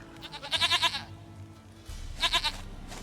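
A goat in The Witcher 3 bleats twice, each a wavering, nasal cry lasting about half a second, close and clear over a low rumbling background.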